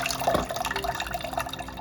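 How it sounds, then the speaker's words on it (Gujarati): Lentils being washed in water for medu vada batter, heard as brief close splashing and dripping liquid sounds, faint and without talk. "3 થી 4 પાણીથી ધોઈ લેવાની દાળને, ધોઈ લેવાની."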